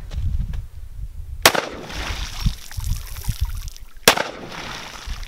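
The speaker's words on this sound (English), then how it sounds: "Oh, the splash, yes." Gunshots from a .30 carbine or .44 Magnum firing into water, two sharp broadband cracks a few seconds apart, each followed by splashing and dribbling water, outdoors with some background rustle.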